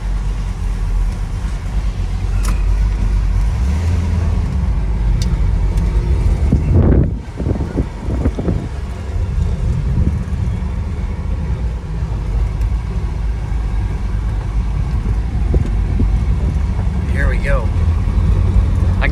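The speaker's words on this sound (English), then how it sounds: "so you might hear a little bit of wind noise" Wind rushes through the open windows of a 1967 Plymouth GTX 440 muscle car while driving, a steady loud broadband roar with engine and road rumble, briefly dipping midway.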